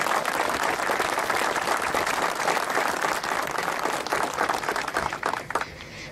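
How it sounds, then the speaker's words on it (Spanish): An audience gives sustained applause at a public event in Viedma, with dense, even clapping that tapers off near the end. "También un aplauso entonces para ellos."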